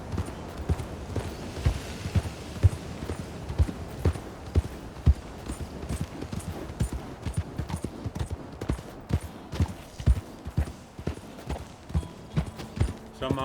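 A horse's hooves clip-clop steadily in Red Dead Redemption 2, a continuous rhythmic trot at moderate volume with crisp repeated hoof strikes and no talk over them.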